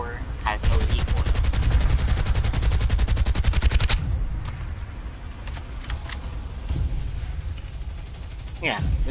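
Rapid sustained automatic fire from an M4 rifle in the video game Farlight 84, a dense rattling burst for about three seconds, then scattered distant shots and booms, loud and close.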